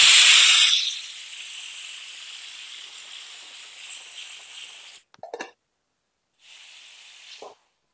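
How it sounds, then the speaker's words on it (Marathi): A pressure cooker on a stove vents steam with a loud rush of hissing that quickly settles into a steady hiss, then cuts off and returns as two short, fainter bursts. "कुकरचं झाकण लावून मीडियम फ्लेम वरती आपण याच्यात 3 शिट्ट्या करणार आहोत."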